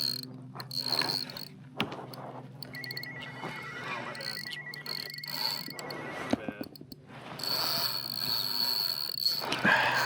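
Fishing reel drag clicks in rapid ratcheting runs while a fish is reeled in from a kayak in the Everglades, close and fairly quiet, with intermittent mechanical whirring and pauses.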